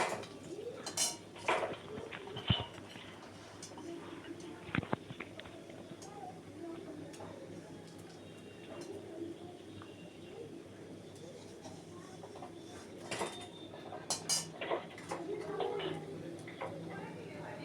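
Fried halua and chanda fish pieces are lifted one by one onto a metal plate, with scattered light clinks and metallic taps against the plate. Pigeons coo faintly in the background.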